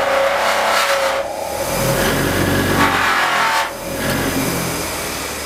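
A disc grinder fitted with 1200-grit paper buffs a piece of brass, giving a loud, continuous whirring hum that dips slightly as pressure shifts, with no talking over it.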